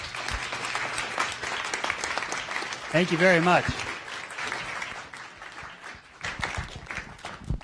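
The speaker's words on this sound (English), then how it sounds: "Let's give our guest one more round of applause." An audience at an evening science cafe talk applauds a guest with steady, sustained clapping, while a voice speaks briefly over it.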